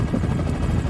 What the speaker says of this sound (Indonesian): Maka ada helikopter tu.